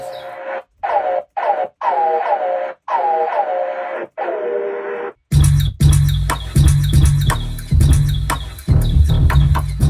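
Clear, repeated bird calls with short gaps between them, then a dense rhythmic mix of clicks and low beats layered with chirps.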